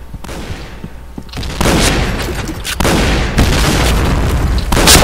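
Gunfire in the shooter video game Point Blank: heavy booming shots and rapid bursts crowd together, growing louder and denser across the clip, close and aggressive with no talk.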